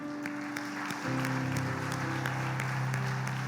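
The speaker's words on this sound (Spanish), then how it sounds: "Démosle un fuerte aplauso al Señor" Applause from a church congregation, a steady patter of clapping with a sustained musical tone droning underneath throughout.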